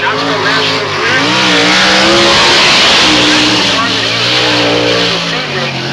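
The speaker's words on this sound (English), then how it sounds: "Dave Blaney in car number 10 out there on the Speedway" Dave Blaney's number 10 sprint car roaring around Fulton Speedway among other sprint cars, engines loud and shifting in pitch as they pass near, with a voice partly under the racing noise.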